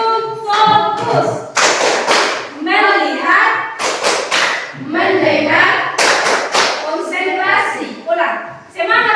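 Students in a Christian religious education and character class at SMKN 4 Lewa vocational school chant loudly in unison, punctuated by sharp rhythmic group claps at regular intervals, close and lively.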